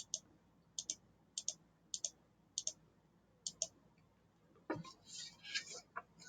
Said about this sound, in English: I'll press and hold control and then click each one of the control